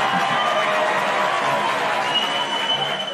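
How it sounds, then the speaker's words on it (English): Canned applause and crowd noise play steadily on a livestream, a dense uniform wash of clapping at moderate level with no break across the moment. "And applause, gentlemen."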